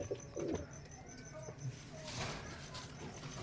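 A red-eyed male pigeon, a Giribaz-type bird, coos in soft low bursts close by, a few short throaty phrases over faint background noise.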